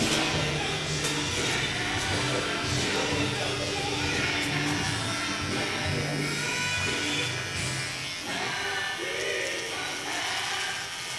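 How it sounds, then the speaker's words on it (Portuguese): Steady electric buzz of a conventional Panasonic hair clipper, continuous and fairly quiet throughout with little change. "Também podemos usar uma máquina convencional, Panasonic."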